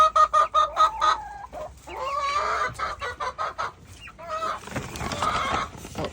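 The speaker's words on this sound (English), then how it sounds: "My chickies. That's my noisy chickie." Backyard homestead chickens in a coop cluck and squawk loudly in rapid bursts, with one especially noisy hen calling repeatedly, close to the listener and with no talking.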